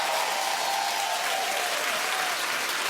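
A studio audience on The Wendy Williams Show applauds in a dense, continuous, loud roar of clapping that holds steady throughout without a break.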